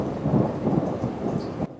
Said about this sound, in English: A downpour in Kellogg and an impressive lightning strike in Rathdrum